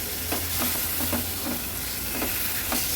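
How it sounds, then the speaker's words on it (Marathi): Boi fish pieces tossed through a thick masala in a hot pan, Agri-Koli style, with a steady frying sizzle under repeated soft scraping stirs at close range. "व्यवस्थित मसाल्यात मिक्स करून घ्यायचे"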